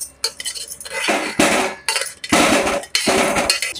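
Boiled gooseberries are tipped from a metal pot onto a plate, a loud run of clanking and scraping metal with short pauses between bursts, close by.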